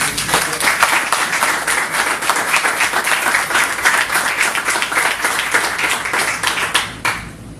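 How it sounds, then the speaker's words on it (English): A round of applause at a press conference, a small group clapping with distinct individual claps audible, loud and sustained before quickly dying away at the end. "let's give her and all the people that work with her a round of applause"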